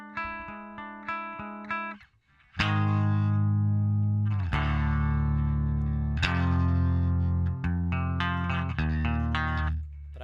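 Simple, basic distorted electric guitar riffs from a band's first album recording: choppy muted strums at first, then a string of loud, sustained power chords ringing out, heavy and close, with no voices.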